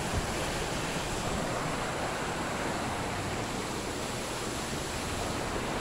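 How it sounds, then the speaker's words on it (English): Floodwater rushes down a concrete-lined creek channel in Carpinteria after heavy rain, a loud, steady broadband roar that holds unbroken throughout with no voices. "But a lot of water coming down."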